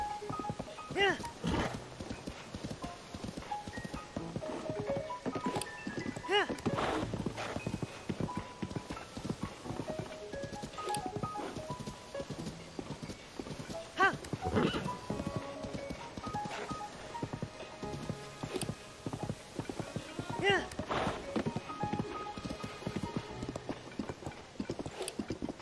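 A horse gallops in Zelda: Tears of the Kingdom, with rapid rhythmic hoofbeats clip-clopping steadily and continuously throughout at moderate loudness.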